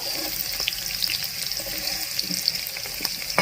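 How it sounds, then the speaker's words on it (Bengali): Salted potatoes frying in hot oil for a fish-head and cabbage dish give a steady, close, even sizzle and crackle throughout, with no talking. "আলু ভাজা হয়ে গেছে"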